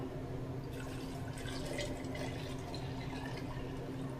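Hot water being poured to dissolve liquid malt extract for a partial-mash hefeweizen brew, a continuous splashing, trickling stream, moderately quiet and steady throughout.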